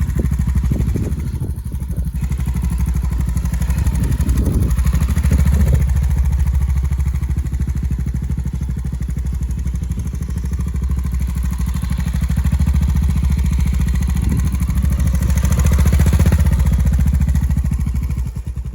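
A motorcycle engine rumbles steadily at low revs, putting along slowly and continuously, close and fairly loud with a low throbbing tone.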